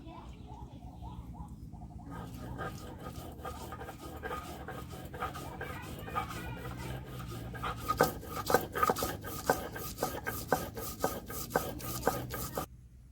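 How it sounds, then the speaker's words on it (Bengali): Poppy seeds being ground into paste on a grinding stone, a quiet steady rubbing and scraping that turns into louder rhythmic strokes near the end, with faint background sounds. "এখন পোস্তটা বেটে নিব।"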